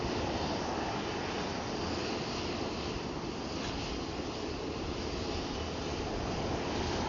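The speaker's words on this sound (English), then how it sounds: "the Airbus from Azores Airline to Madeira, it's still taxiing, it's not ready" Azores Airlines Airbus taxiing at Ponta Delgada airport, a steady distant engine rumble with broadband wind-like hiss, continuous and unchanging throughout.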